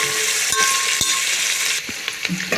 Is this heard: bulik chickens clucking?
no